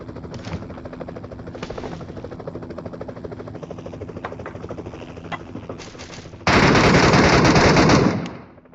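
Gunfire in the battle-royale video game Metro Royale: bursts of rapid automatic fire crackle throughout, ending in a loud, dense sustained volley over the final two seconds.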